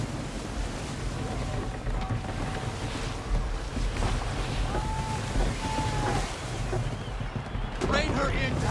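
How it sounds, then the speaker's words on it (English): Strong wind and waves surround a sailing ship at sea in the Assassin's Creed 3 game, with a steady, loud roar of gusts and water. Voices call out over the din. "Wind looks to be shifting. Stay alert, Connor. Gusty winds can be difficult to manage"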